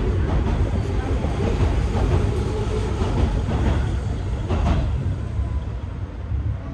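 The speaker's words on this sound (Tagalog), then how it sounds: "Ito naman, point to point yung tren na to." A point-to-point train in Tokyo, Japan, rumbles steadily from inside the car, a continuous low roll with faint rail clatter throughout.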